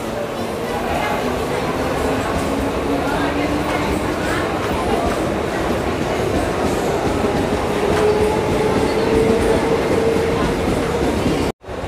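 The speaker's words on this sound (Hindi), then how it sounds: "ट्रेन गुजर रही है," A Mumbai local train passes through Andheri station, a loud continuous rumble and clatter of rail cars with a rising whine and wheel screech, ending in a sudden cut.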